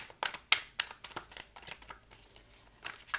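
Tarot cards are shuffled by hand in quick riffling bursts, close and crisp, with a run of fast flicks followed by a brief lull and another burst.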